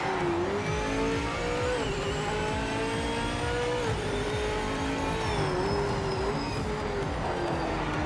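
A video game racing car engine roars steadily, revving up and down through gear shifts, loud and continuous with no talking.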